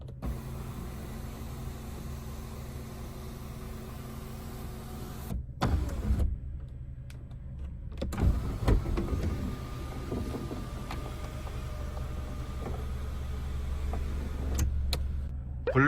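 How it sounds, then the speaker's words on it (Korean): The sunroof motor of a used hatchback runs with a steady electric whir at close range inside the car, then stops, followed by faint clicks and a quieter hum. "선루프"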